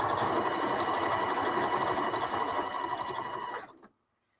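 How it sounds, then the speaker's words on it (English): A sewing machine stitches fabric down in a steady, fast mechanical whir that runs continuously up close, then stops abruptly and leaves silence. "I might as well get it sewn down so it doesn't have a chance of shifting"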